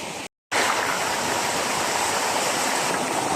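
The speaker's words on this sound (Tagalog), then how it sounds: "Nakarating din tayo sa Naumag Waterfalls." Naumag Waterfalls in Aguinaldo, Ifugao: a steady, loud broadband rush of falling water heard close by, briefly cut to silence near the start and then continuing unbroken, with no voices.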